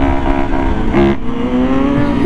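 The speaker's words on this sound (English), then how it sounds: "Gixxer Brah clutched up!" A Suzuki GSX-R sport motorcycle revs hard as the rider clutches up, its engine note rising and falling in steady harmonic tones, loud and close for a couple of seconds with no talk.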